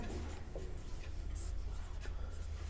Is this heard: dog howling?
no